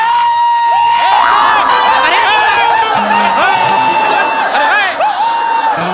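A packed theatre audience at a Marathi comedy show cheers and shouts loudly and continuously, with whoops and children's voices mixed into the dense roar.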